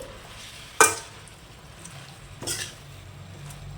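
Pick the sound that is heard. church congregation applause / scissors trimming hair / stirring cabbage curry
stirring cabbage curry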